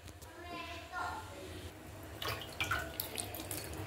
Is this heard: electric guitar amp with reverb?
no